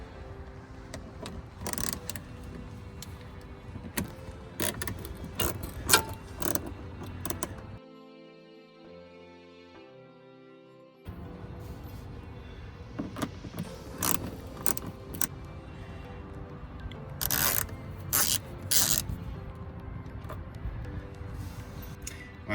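Quick bursts of ratchet clicking from a 9/32 socket loosening two wheel well bolts on a 2015-2017 Ford F-150, close and moderately loud, broken by a short quiet pause before the clicking resumes.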